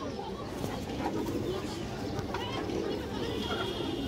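Pen-kept pigeons, two pairs of fancy and Indian high flyer birds, coo in a soft continuous burble nearby, with a voice talking over them.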